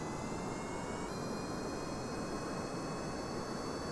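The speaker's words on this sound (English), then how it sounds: "Fire them engines up." Jet engines firing up in the video game Kerbal Space Program, a steady loud roaring rush that holds constant without pause.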